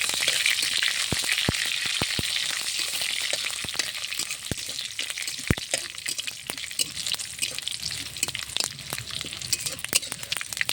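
Black mustard seeds crackling and spitting in hot oil with crushed garlic and dried chilli, a dense loud sizzle broken by sharp pops throughout.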